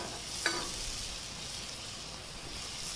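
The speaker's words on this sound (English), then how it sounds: "The grouper fillet's been cooking about 3 minutes on that side." A grouper fillet sizzles steadily on a hot Himalayan salt block, a soft even hiss throughout with one brief clink near the start and no talking.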